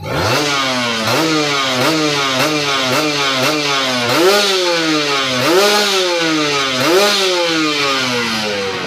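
A two-stroke Kawasaki Ninja RR motorcycle engine revs repeatedly, rising and falling in quick rhythmic bursts, loud and close, with no voices.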